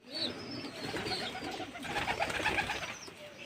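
Pigeons flutter down one after another to drink water, their soft coos and wing sounds rising and mingling at close range with no talk.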